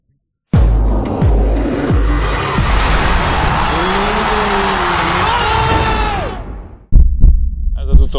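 Motocross motorcycle engines roar at an indoor race in Nyíregyháza, a loud, sustained wall of engine noise with rising and falling revs that cuts off abruptly, then returns.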